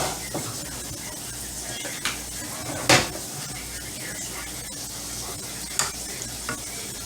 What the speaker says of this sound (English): Gonna just stir things around here.